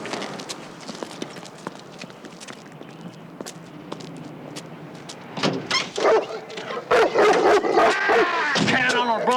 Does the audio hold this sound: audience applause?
no